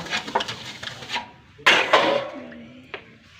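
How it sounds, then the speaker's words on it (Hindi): Dishes, pots and utensils being washed by hand in a home kitchen: a string of close clinks, scrapes and metallic clatters at irregular intervals, with one sharp louder knock midway and no talk. "आज चाची धो रही है बर्तन"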